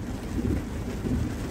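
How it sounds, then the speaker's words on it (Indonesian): Steady rain falling with a low, rumbling wash, a constant dense patter without pauses, heard from a Daihatsu Rocky on a test drive. "Kondisinya ini lagi hujan."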